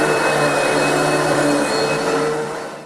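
A vacuum cleaner used to groom a standing mule, heard as a loud, steady, close-up whine and rush that holds even throughout and eases slightly at the end.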